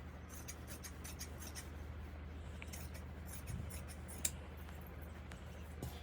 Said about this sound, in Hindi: फिर इसके ऊपर रख के हम ऐसे का ऐसे एज इट इज़ काट देंगे।